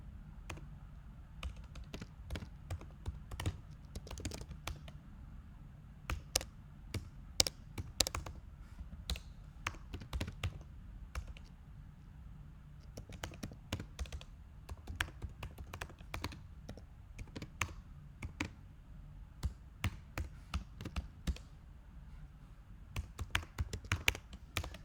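Code typed on a computer keyboard in quick, irregular bursts of soft, close key clicks with short pauses between them, quiet and with no talking.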